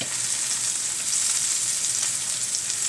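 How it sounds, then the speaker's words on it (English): Fat on a steak frying in a hot pan, giving a steady, dense sizzle and crackle that holds close and fairly loud throughout, with no talk. "All that fat starting to cook out of this thing."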